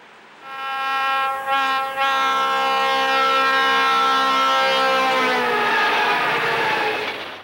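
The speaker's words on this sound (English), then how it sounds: "a pair of U-23Bs works the local freight" A pair of U-23B diesel locomotives, one in Louisville and Nashville paint, blows a loud sustained multi-tone horn while working a local freight train in Mount Vernon, the blast steady and close for several seconds before trailing off.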